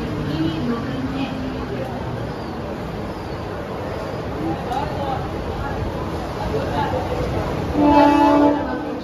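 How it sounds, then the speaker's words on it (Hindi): A slow 12-car Harbour line local train bound for Panvel at Masjid station in Mumbai gives a loud, constant rolling rumble, and a short horn blast near the end. "हार्बर लाइन से पनवेल जाने वाली 12 डिब्बों की धीमी लोकल है।"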